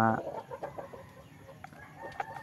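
A pet chicken clucks in short, soft bursts while pecking at banana, the calls close and intermittent over a low background rustle.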